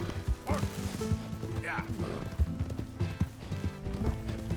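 Mule hooves clip-clop in the video game Red Dead Redemption 2, a loose uneven series of thudding steps with a couple of brief animal calls over a low steady background.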